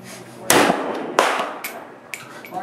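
Two sharp, loud gunshots from a 7.62x39 carbine crack about a second apart at an outdoor shooting range in Arizona, each with a short echo, followed by fainter distant pops.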